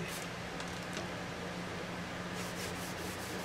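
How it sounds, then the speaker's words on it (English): A rag rubs paste wax onto a varnished wooden rack, making a soft, continuous, faint brushing hiss with no talk. "So today I'm going to hit it with a little paste wax"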